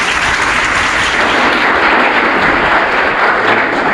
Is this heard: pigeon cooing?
no